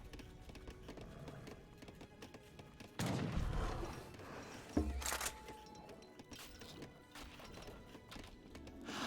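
Hussar cavalry horses on the move toward a raid in a real-time strategy game, their hooves clattering and neighing amid bursts of battle noise and gunfire, moderately loud with surges around the middle.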